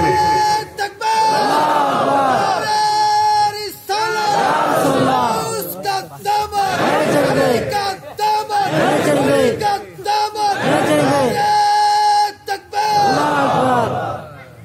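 A large crowd at a religious gathering chanting a slogan together in loud rhythmic unison, phrase after phrase with short pauses, led by a voice calling out between chants.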